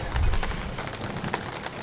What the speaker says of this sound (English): there's a bit of thunder.